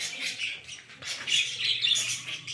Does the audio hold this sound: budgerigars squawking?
yes